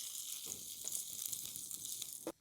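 Potatoes frying in hot oil in a pan, giving a continuous close sizzle with a few soft crackles and stirring bumps before it cuts off abruptly.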